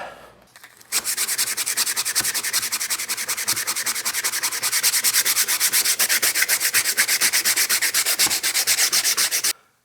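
Mahogany is sanded by hand to make fine sawdust, a close, steady rhythmic rasp of quick back-and-forth strokes that starts after a brief pause and runs evenly to the end.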